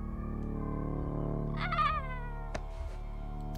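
A cat meows in the video game Echo Generation, one drawn-out, wavering meow rising in the middle of a steady game music background, followed by a sharp click.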